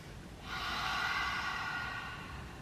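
One deep yoga breath drawn in audibly through an open mouth, a soft, airy rush that swells and holds close and clear for about two seconds against quiet room hiss.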